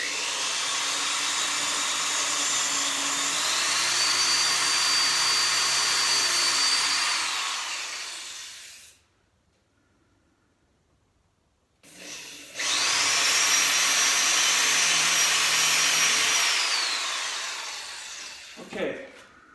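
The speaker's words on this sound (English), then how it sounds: "now I'm using 2 drills because I have 2 drills" Two power drills bore pilot holes into a wooden platform under construction, with a steady high whine in two long runs separated by a pause of quiet, ending with a brief knock.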